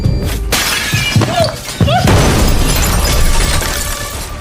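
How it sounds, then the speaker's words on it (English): A hand grenade goes off in a room, a loud close blast with shattering debris, followed by a long roaring rumble that slowly fades. "She didn't expect that the hive-minded people had actually given her a real hand grenade. The whole room was blown to pieces."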